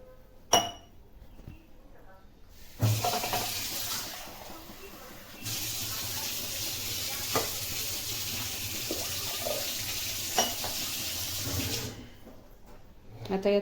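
Water poured from a glass into a pressure cooker holding washed whole masoor lentils, a steady splashing pour running for several seconds at close range with a few clinks before and after.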